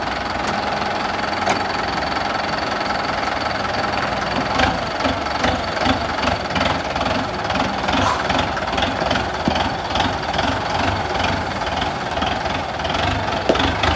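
A 2009 Kubota M9540 tractor diesel engine running in original condition, a steady, loud close rumble with a rhythmic knocking pulse and faint background voices.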